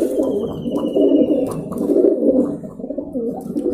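Pigeons coo in a dense, continuous murmur of low warbling calls, close by, with a faint thin whistle drifting above.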